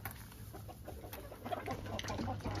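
An F1 hybrid rooster and hens cluck softly in a coop, brief low clucks scattered over a noisy background, fairly quiet and close.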